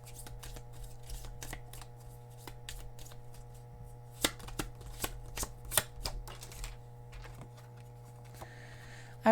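Tarot cards being shuffled to draw another card: a run of crisp, rapid riffling clicks and flicks, close and fairly quiet, with a steady background hum and no talking.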